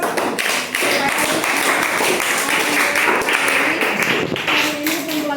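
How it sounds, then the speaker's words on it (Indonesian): A classroom of students claps their hands together in a lively, dense patter, loud and close, with individual slaps standing out and faint voices mixed underneath. "Tepuk tangan dulu dong."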